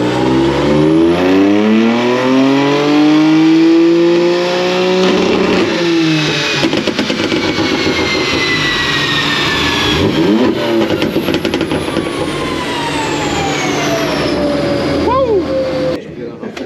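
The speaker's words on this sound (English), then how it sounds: "So it was misfiring a wee bit at the top end of the rev range because it's running out of fuel" High-boost, ethanol-fuelled car revving hard on dyno rollers, engine pitch sweeping up loud and close, with a misfire breaking up the note at the top of the rev range.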